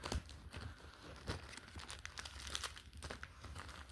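Packaging crinkles and rustles softly as a parcel of drawing pencils is opened, a steady stream of faint crackles and small tearing sounds close to the microphone.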